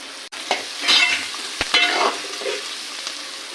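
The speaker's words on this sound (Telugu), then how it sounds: "కొద్దిగా లైట్గా వేగాక మనం టమాటాలు వేసుకున్నాము." Tomatoes frying in a pan make a continuous close sizzle, with a few sharp knocks and scrapes from a utensil moving the pieces around, and no one speaking.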